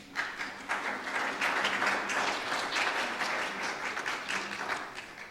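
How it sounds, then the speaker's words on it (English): Audience at a building forum applauds steadily in a dense, continuous wash of clapping that lasts throughout, with no talking over it. "We can clap for him."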